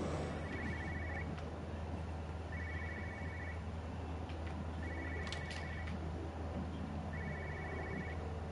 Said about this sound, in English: Hear a phone ringing somewhere.